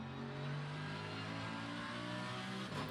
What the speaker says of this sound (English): A nice place to hear the engine notes.